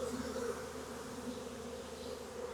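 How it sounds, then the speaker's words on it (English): A massive swarm of wild bees attempting to move into a barn, a continuous droning hum of thousands of wings, steady and fairly faint, with no talk. "You can literally be in the middle of thousands and thousands and thousands of bees"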